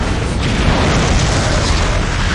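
Dense, continuous rumbling blasts from a tank assault in the real-time strategy game Dawn of War: Dark Crusade, loud and sustained with overlapping booms and no clear gaps.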